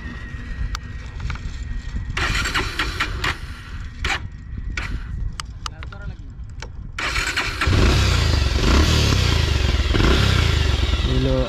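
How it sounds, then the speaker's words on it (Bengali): Modified Bajaj Pulsar motorcycle exhaust, first a series of sharp blips and pops between quieter gaps, then settling into a louder, sustained deep idle rumble held close to the microphone for the last few seconds. "তখন যে বললাম যে এক্সজস্টে একটা সাউন্ড আছে, একটা প্রিমিয়াম একটা মিষ্টি সাউন্ড আছে, তো সেটা একটু আপনাদের এখন শোনাবো আমি"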